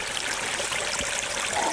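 Water from a spring pours into a small pond at a bushcraft camp, making a continuous rushing trickle that stays close and steady throughout.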